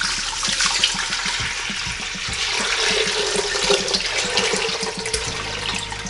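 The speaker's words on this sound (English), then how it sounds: "So in goes our water." Water pours steadily into a pot holding sugar for a turkey brine, a continuous close splashing and gurgling stream with no talk.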